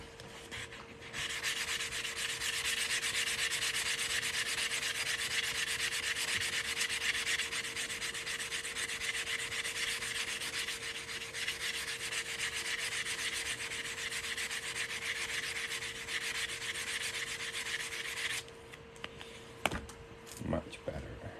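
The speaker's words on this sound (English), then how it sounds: "I actually want to sand the cut edge" Sanding the cut edge of a coin ring made from a 1946 half dollar produces a steady, loud abrasive hiss that runs for about seventeen seconds before stopping, with a few small clicks at the end.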